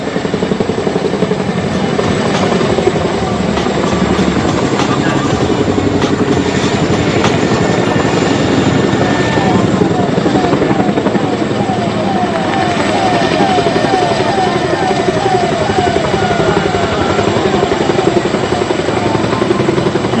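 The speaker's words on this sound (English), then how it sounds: "both helicopters will now turn away from the audience and open their ramp at the rear part of the aircraft" Indian Air Force helicopters fly low over an air show rehearsal in Bhopal, their rotors and engines making a loud, continuous throbbing drone that fills the whole stretch. A voice is faintly audible underneath.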